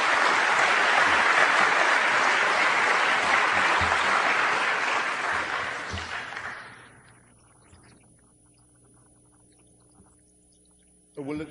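An audience at a talk on God, religion and atheism applauds loudly and steadily for about six seconds before the clapping fades away, leaving a quiet room.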